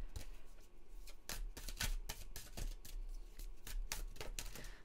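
Goddess Guidance oracle cards are shuffled close up in a quiet room, with a quick run of crisp riffling slaps and flutters repeating throughout.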